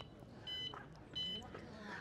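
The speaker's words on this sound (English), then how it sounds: "So what you've got there is a new soft tone feature, so it's more sociably friendly in a group of motorhomes around." A motorhome security alarm arms with a soft-tone setting, giving two short gentle electronic beeps separated by a brief gap, heard up close over a low background hum.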